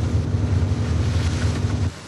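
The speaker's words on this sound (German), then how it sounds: "Dann kommt Wind auf." Strong wind roars at sea aboard a fishing boat, a dense, steady rush with low rumbling engine or hull drone beneath, loud and close, easing slightly at the very end.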